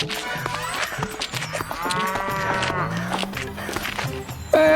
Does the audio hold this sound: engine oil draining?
no